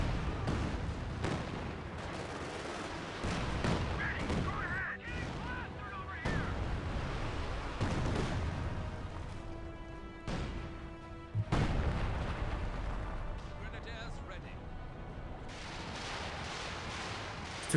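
Heavy artillery shells thumping down in a Company of Heroes 2 battle, a 2v2 match, with repeated booms and rumbling impacts under steady commentary.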